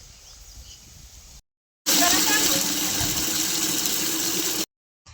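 Water gushes into a metal water pot, a loud steady rushing fill close by, starting abruptly and cutting off after about three seconds, framed by quieter background noise.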